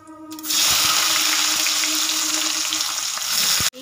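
Whole cumin seeds, bay leaf and chopped onion hit hot oil for a chicken and potato curry, setting off a loud, steady sizzle that jumps up suddenly and holds without a break, with no talking.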